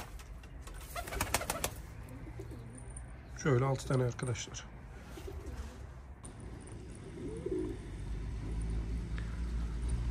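Van pigeons coo and call close by, with bursts of wing or bird noise early on; someone speaks briefly over them while a steady outdoor hum continues.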